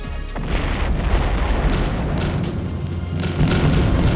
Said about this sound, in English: let's blow this sucker to smithereens